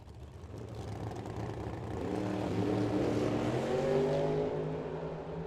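Drag racing cars, among them a Camaro, launch down the strip at Firebird Motorsports Park, a distant engine roar swelling and then fading over several seconds, fairly faint.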